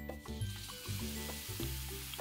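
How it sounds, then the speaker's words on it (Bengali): Potatoes frying in a pan for a vegetarian aloor dum, a steady close sizzle running throughout with small bursts as the pieces are stirred or shifted. "সুন্দর করে আলুটাকে লাল লাল করে ভেজে নিতে হবে।"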